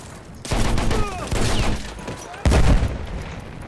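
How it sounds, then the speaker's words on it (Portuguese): Battlefield 1 campaign gunfire: bursts of rapid shots and booming blasts from a battle, loud and close, with a heavy volley near the end and faint voices mixed into the din. "Tiro de algum lugar."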